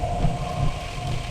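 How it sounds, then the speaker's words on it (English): A storm at sea gives a steady, dense roar of wind and rain with a low rumble underneath, heard from the deck of a ship, continuous and fairly loud. "The storm outside picks up force"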